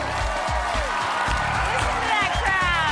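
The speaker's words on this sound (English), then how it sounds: "Listen to that crowd." Game show studio audience of young people cheering and applauding at the host's entrance, a dense continuous roar of claps and shouts with music and voices beneath.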